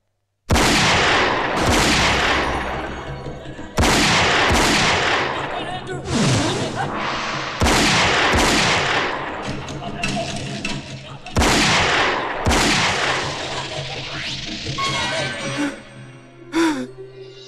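Loud gunshots in a Hindi action film scene, about six sharp blasts spaced a couple of seconds apart, each followed by a long ringing decay, with groans and gasping between the shots.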